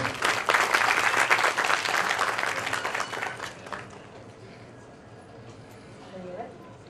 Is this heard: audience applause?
yes